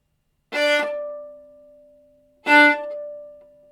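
Two short, accented bowed string martelé notes, each with a sharp, biting start and a controlled, squelched stop, followed by a lingering ring, separated by a pause.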